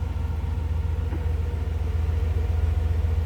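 A 1967 Buick Skylark 300 convertible with a stock V8 and stock exhaust idles steadily, a smooth, low, even rumble with a regular pulse that holds constant throughout, with no talk.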